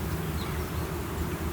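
Honey bees swarm around an opened hive during a split made with swarm cells, producing a constant close, loud drone with a low hum beneath it. No voices are heard.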